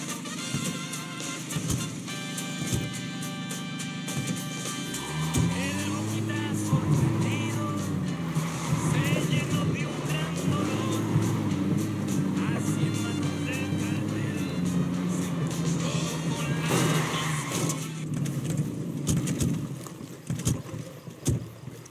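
A car driven in the video game Ghost Recon Wildlands: a loud, steady engine drone with rising and falling revs over about twenty seconds, mixed with game music and ambient noise.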